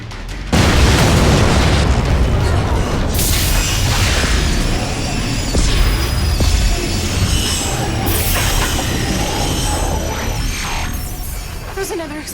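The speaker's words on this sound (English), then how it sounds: "There's another explosion." A deep, sustained rumbling roar of a power substation explosion, loud and continuous with low booming texture that slowly fades.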